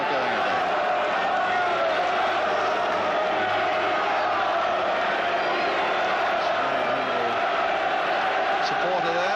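Crystal Palace football supporters chanting in a stadium crowd during the 1978/79 season, a loud sustained roar of many voices with rising and falling shouts, filling the whole stretch.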